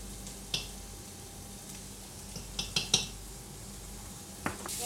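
Onions being stirred in a cooking pot as they start to brown, a soft sizzle underneath with several sharp clinks of the spoon against the pot, clustered in the second half.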